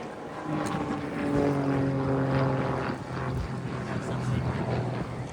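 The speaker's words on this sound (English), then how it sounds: "I can tell he's really battling with the wind because the Tutor is a really quite light aircraft" An RAF Tutor light propeller aircraft performs a flying display at the Abingdon Air & Country Show at Dalton Barracks, its engine droning steadily at moderate distance and swelling slightly as it passes, battling the wind.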